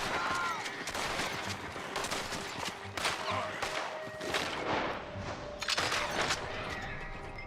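Rapid gunfire in Red Dead Redemption 2, a dense fusillade of sharp overlapping shots and bursts crackling across the whole stretch, loud and close with occasional heavier reports.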